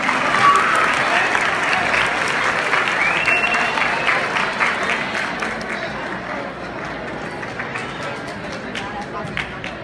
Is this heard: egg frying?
no